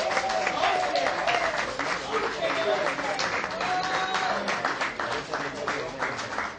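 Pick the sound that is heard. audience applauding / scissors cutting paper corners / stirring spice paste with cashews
audience applauding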